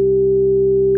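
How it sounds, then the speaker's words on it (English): A steady, pure sustained G tone loops as a constant drone, loud and unchanging, with no talking. "And I looped a constant G in the background."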